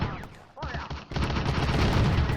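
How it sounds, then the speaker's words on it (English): Direct fire from a Panzer 35 tank in the Firefight war game, an initial crack followed after a brief lull by a heavy sustained burst of loud gunfire that fills the rest of the moment. "Direct fire from the Panzer 35."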